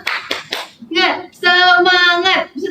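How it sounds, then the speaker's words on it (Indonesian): Rhythmic hand claps open a classroom ice-breaker clapping routine during a guidance and counseling session, followed by a group of voices chanting loudly in unison. "Tepuk semangat."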